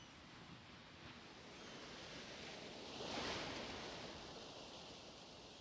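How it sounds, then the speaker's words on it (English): A sound effect of ocean waves on a beach, a soft, steady wash of surf that swells gently in the middle, faint and continuous with no talking. "Get some beach sounds happening."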